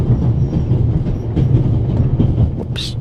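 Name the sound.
moving train rattling in The Raven video game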